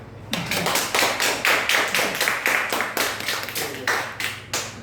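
A church congregation claps in unison, a brisk, rhythmic run of loud, close hand claps at a steady beat, with no talking over them.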